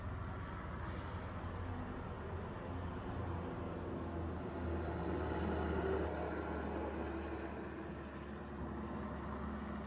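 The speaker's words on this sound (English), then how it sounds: "Another helicopter." A steady low rumble of a helicopter passing overhead on a military base, its drone swelling slightly in the middle and then easing, with no voices.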